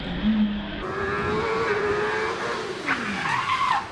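A 1 litre OMS Hornet race car with a space-frame chassis climbs the hill at Prescott, its engine note rising and falling with gear changes and a squeal of tyres, heard at moderate distance over crowd ambience.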